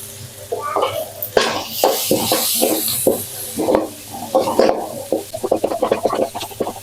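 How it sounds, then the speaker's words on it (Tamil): Small onions sauté in a pan for a Tamil buttermilk curry (mor kulambu), the sizzle coming in bursts as a spoon stirs and scrapes repeatedly, close and fairly loud with brief rubbing sounds. "இப்போ வெங்காயம் கொஞ்சம் வதங்கிடுச்சு"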